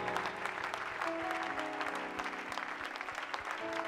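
A church congregation claps and cheers to acclaim the Lord during a seminar service, steady sustained applause filling the room with sharp hand-clap transients, while music tones hold underneath.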